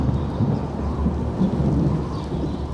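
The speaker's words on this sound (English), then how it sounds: "The midsummer rains were approaching." A low rolling rumble of thunder under steady rain as the midsummer rains approach in Egypt, continuous and fairly loud with no talk.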